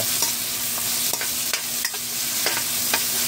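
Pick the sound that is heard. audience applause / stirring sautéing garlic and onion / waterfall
stirring sautéing garlic and onion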